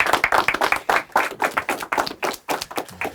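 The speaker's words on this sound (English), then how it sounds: "So do me a favor, clap your hands for my guy K Quick, y'all" A small audience claps at a talk-show style interview, a burst of close, uneven hand claps with sharp individual taps, loudest at first and thinning toward the end, with no talking over it.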